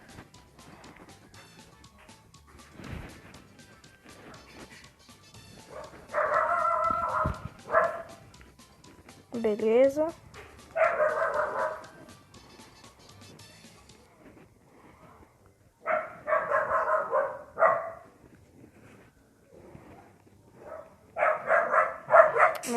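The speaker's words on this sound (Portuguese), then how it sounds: "Meu Deus, vai ficar 10 anos latindo esse cachorro aqui de casa." A house dog barks in short bursts at close range, several clusters of sharp barks with quiet gaps between, and a person speaks briefly in between.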